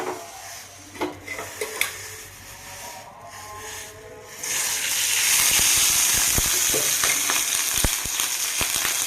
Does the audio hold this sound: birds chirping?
no